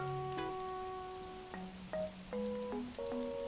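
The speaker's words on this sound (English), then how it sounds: "it does rain pretty often in Animal Crossing" Rainfall in the video game Animal Crossing New Horizons, a steady soft patter running under bright, stepping game music tones throughout, with no talking.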